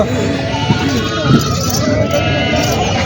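Goats bleating at a rural goat market in Vasmat, Hingoli, intermittent close calls rising over a dense crowd murmur, with people talking throughout.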